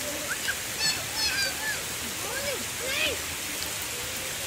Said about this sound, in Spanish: Y está lloviendo algo duro.